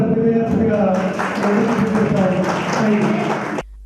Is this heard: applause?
yes